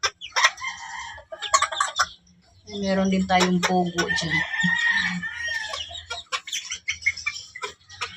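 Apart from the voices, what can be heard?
small chickens clucking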